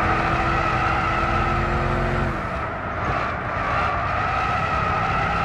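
A race car in Gran Turismo 6 understeers through a corner, its engine droning loud and close while tyre scrub and skidding hiss grow as the engine note drops away midway.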